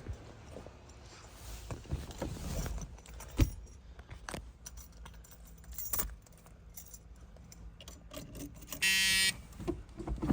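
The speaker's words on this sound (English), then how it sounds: "Buzzer still works." A 1978 Pontiac Trans Am's warning buzzer gives a short, steady electronic tone near the end, standing out briefly amid quiet clicks, jingles and handling noises inside the car.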